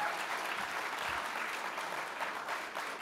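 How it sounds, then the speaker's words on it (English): An audience at a fall benefit gala claps in dense, sustained applause for about three seconds, a steady wash of many hands filling the room with no voices standing out. "Let's give Jessie a round of applause."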